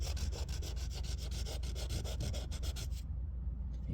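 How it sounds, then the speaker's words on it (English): Sandpaper rubbing surface rust off a part of a long-idle marine flathead engine, a steady run of quick, close scratchy strokes for about three seconds before stopping. "taking a little bit of sandpaper and just cleaning those edges up"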